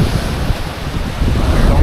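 Strong wind roars across Baskatong Lake during a storm on a canoe trip, a loud, constant low rush with gusty buffeting and no break throughout.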